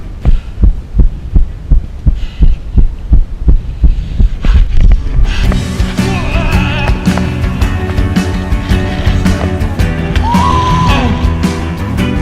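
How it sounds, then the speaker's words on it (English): A heart beating in the chest of someone on a huge rope swing in the Rocky Mountains: a steady thumping pulse, loud and close, for about five seconds before a rush of wind and roaring noise covers it. "Listen closely as you can hear my friend's heart beating through his chest."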